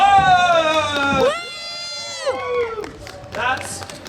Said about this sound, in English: Let's get everyone warmed up here with some applause!